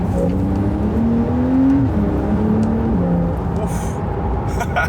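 A car pulls away in second gear on a snowy, gritted and salted road, its engine note rising steadily and droning loud and close throughout with no talk.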